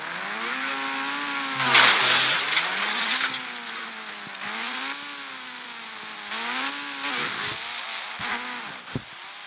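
A motorcycle engine in a Ghost Rider bike video game drones and revs continuously, its pitch rising and falling in repeated swells, loud and close.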